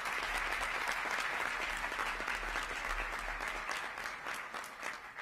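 Steady audience applause at a political speech event in Illinois, honoring state frontline and essential workers. Dense clapping fills the hall loudly and continuously for about five seconds with no talking over it.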